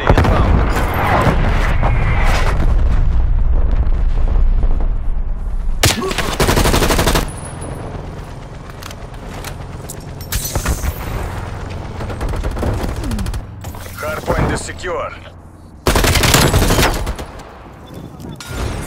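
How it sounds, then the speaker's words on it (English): Artillery strike and gunfire in the video game Call of Duty Black Ops Cold War: loud bursts of automatic fire and heavy explosive blasts, close and dense, with radio voices over the combat. "Artillery inbound."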